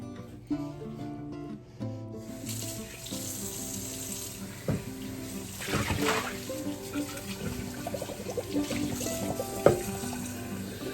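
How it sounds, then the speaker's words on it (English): Tap water poured into a pressure canner, a steady splashing stream starting after a quiet moment and running on with rising gurgles and a few clinks, nearby and moderately quiet. "we need to put some water in"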